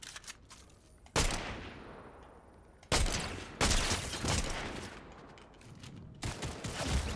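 Bursts of gunfire from a weapon in the video game Fortnite, loud and close, arriving in several separate volleys with rapid shots and quieter stretches in between.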